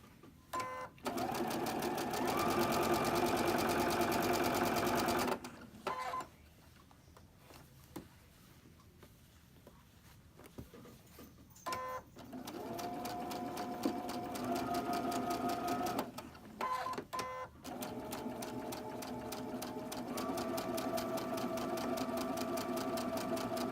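A sewing machine runs straight stitches through quilt pieces in steady mechanical bursts, whirring for several seconds, pausing, then starting again, close by and fairly quiet.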